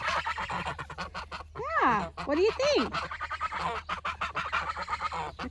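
Geese in a paddock let out a few honking calls, rising and falling in two short bursts among people talking nearby.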